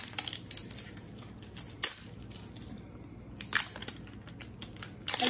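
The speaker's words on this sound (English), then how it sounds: "Gonna have to use my scissors, I think." Several short, crisp snipping and crinkling sounds of scissors cutting packaging, irregular bursts with quiet pauses between, close up.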